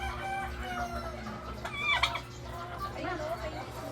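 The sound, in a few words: farm turkeys and roosters calling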